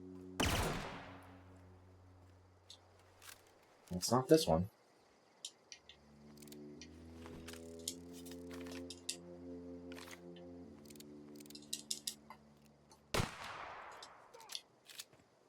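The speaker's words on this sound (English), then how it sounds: "I'm just firing off a couple of shots, guys." Energy weapon fire in The Outer Worlds, with sharp shot bursts near the start, around four seconds and again near thirteen seconds, separated by quieter game sounds and a brief spoken line.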